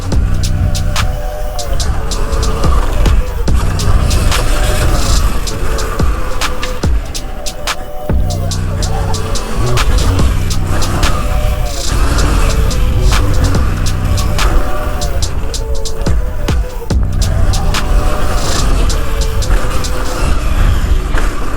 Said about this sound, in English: This Ultra B's been insane riding around the track.